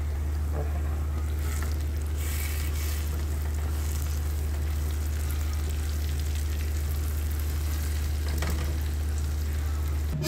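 A pan of sauce simmers and sizzles on the stove in a home kitchen with a steady close frying hiss, occasional stirring scrapes and a constant low hum underneath. No one speaks.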